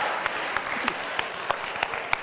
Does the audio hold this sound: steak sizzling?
no